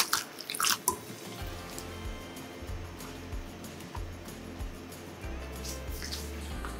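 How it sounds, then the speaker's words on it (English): Soaked shiitake mushrooms being rinsed in clean water, with steady running water and splashing close by, broken by brief louder drips and sloshes, and no voices. "Then take it out and rinse it twice with clean water."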